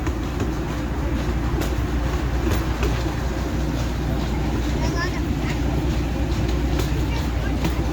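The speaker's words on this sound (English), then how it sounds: "There's the train and the conductor." A holiday light festival train ride at Griffith Park rumbles steadily in motion, a continuous low rolling drone with faint clicks, while people talk quietly over it.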